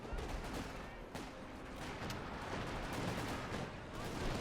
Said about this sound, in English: Oh, nasty artillery coming in from TarNationZ